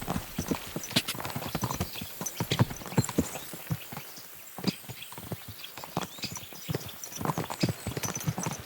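Horses trot in the video game Kingdom Come: Deliverance 2, their hooves clip-clopping in a fast, steady, uneven patter that carries on throughout.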